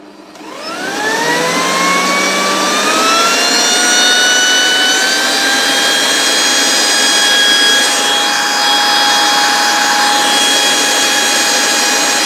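A blower vacuum, rated up to 107 decibels, is turned on with a rotary switch, its motor whining up in pitch over a couple of seconds and then running loud and steady with a high, rushing airflow roar, no talking.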